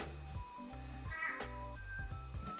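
A house cat meows in a rapid string of short, tonal calls, close and fairly loud, with no talking over them.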